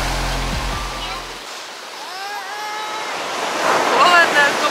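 Stormy sea waves crash on a beach in Hurghada, Egypt, making a steady, broad rushing roar that swells louder near the end, with a low hum at the start and a voice speaking over the surf.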